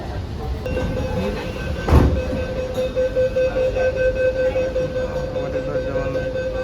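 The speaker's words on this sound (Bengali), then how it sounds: "ট্রেন চালু হয়ে গেছে" A Kolkata underwater metro train runs through the tunnel beneath the Ganges, a continuous loud rumble with wheel clatter and a steady whine, plus a sharp thump near the start.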